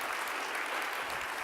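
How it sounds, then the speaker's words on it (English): An audience at a conference gives a panel of speakers a round of applause, a dense and steady clapping that fills the whole moment. "let's give our panelists a round of applause"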